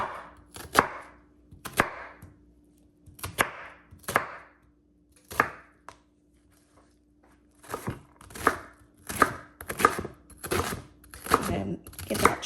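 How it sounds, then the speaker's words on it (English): A knife chops through a small-to-medium Vidalia onion, close and crisp: sharp clustered strokes in short bursts separated by brief pauses, then a faster run of cuts toward the end. "we're gonna go ahead and get the onion all chopped up"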